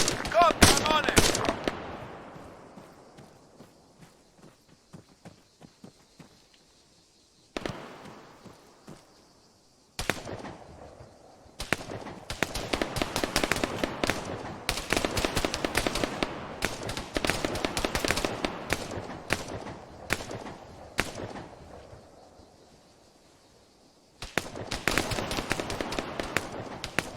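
Gunfire in Arma 3 during a peacekeeping campaign, beginning with a loud blast that decays, then rapid bursts of automatic fire with scattered sharp single shots, close and echoing, separated by brief quiet gaps.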